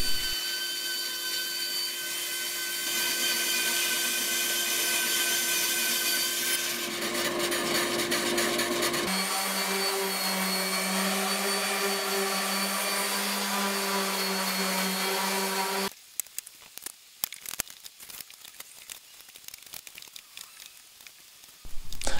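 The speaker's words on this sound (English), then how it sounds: "The shelf dividers need a notch cutting to allow for the French cleat." A power tool cuts notches into wooden shelf dividers to fit a French cleat, giving a loud, steady whining drone that shifts pitch partway through and then cuts out, leaving scattered intermittent noises.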